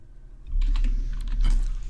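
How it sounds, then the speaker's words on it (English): Keys clatter on a computer keyboard as someone types code for restarting a game, a quick close burst of taps that starts after a short quiet gap and continues steadily with no talking. "So I just type in move."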